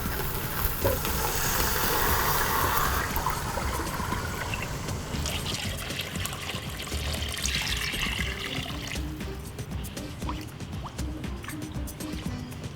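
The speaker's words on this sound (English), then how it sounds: "Now just fill up your pot with as much water as it can handle." Water pours steadily into a large stock pot, a continuous rushing trickle that shifts in tone as the level rises, fairly close and loud throughout.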